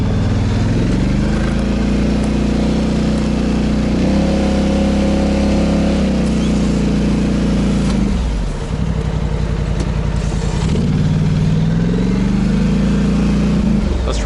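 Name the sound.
Polaris Sportsman XP 1000 ATV pushing snow with plow blade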